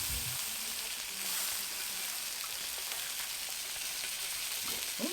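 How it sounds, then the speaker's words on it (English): Limes sizzling on a five-burner Pit Boss griddle, a steady, dense frying hiss that runs unbroken throughout with no talking. "I'm going to throw a couple limes on and just grill them up real quick."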